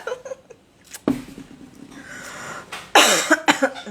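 A few sharp coughs break out close by, with a louder burst near the end, over quiet background noise and no talking.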